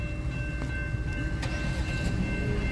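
A CSX manifest freight train passes at a distance as a low, continuous rumble with faint rail squeals and clanks, fairly quiet throughout.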